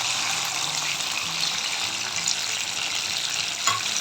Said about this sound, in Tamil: புளி கரைச்சலை சேர்த்துக்கலாம்